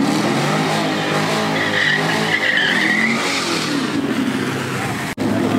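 A Chevrolet Camaro's tires squeal in a loud, continuous, close skid with engine roar underneath, ending in a brief cutoff.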